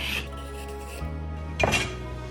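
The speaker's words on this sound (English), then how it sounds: "Now peel off the skin using a vegetable peeler" A vegetable peeler scraping the skin off a halved butternut squash: two short rasping strokes, the first at the start and a stronger one later, close up over soft background music.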